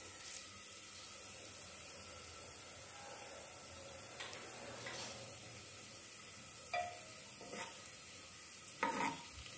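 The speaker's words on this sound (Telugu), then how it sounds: "పచ్చివాసన పోయే వరకు ఫ్రై చేసుకోవాలండి." Vegetables fry quietly in a pan for vegetable corn soup, a soft steady sizzle with occasional louder stirring scrapes and clinks near the end.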